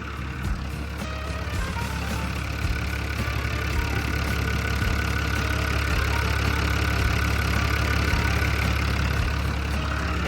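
The diesel engine of a Sakai TS150 pneumatic-tyred road roller runs at a steady idle, a continuous low rumble with a faint knocking rhythm, close and constant throughout with no voices.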